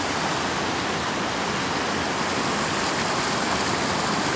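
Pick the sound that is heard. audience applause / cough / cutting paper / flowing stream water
flowing stream water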